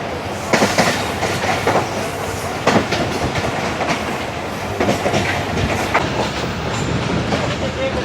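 The 18DN Millat Express passenger train runs on rails between Mehrabpur and Karachi, a steady dense rumble broken by rhythmic clickety-clack wheel beats, heard close from on board.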